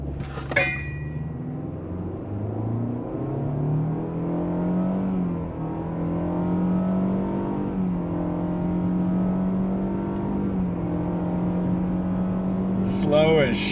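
Nissan Altima with 28,000 miles accelerating on an empty road, engine drone climbing steadily through a long pull with a gear shift, heard from inside the car with a brief sound at each end.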